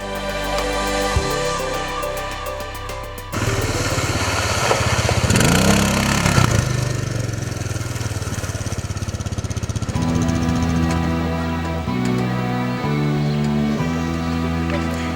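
An ATV quad bike engine runs nearby with a buzzy, steady drone that rises into a louder rev partway through before settling back, with no talk.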